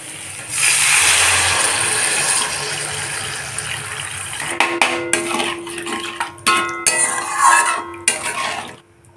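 Water poured into cumin and coriander powder masala frying in a pan for Bengali mourola fish jhal gives a loud rushing hiss, followed by clattering of a utensil against the pan.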